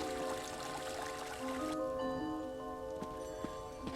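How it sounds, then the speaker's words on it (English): Shower water runs steadily in a bathroom inside the video game ESO, a continuous soft hiss with a few faint drips. Tonal ambient music plays underneath. "This is the shower."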